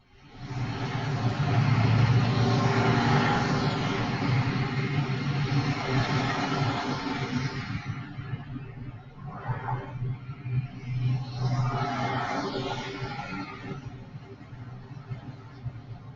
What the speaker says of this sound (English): Those are cars driving down a highway.